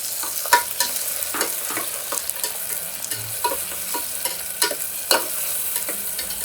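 Onions and thinly sliced tomatoes being sautéed in a pan for chicken biryani: a steady sizzle with frequent spatula clicks and scrapes against the pan.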